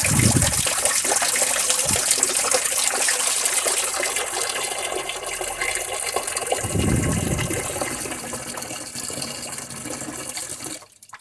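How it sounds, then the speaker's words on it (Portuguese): Tap water gushes steadily into a sink as it fills for soaking cotton fabric, a close, continuous rushing splash lasting several seconds before the flow cuts off at the end, with no talking. "fecha e preenche com água."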